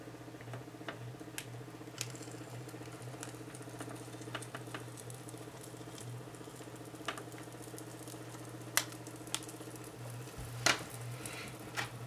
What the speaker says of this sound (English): I have my laminating machine here, and it is feeding through right now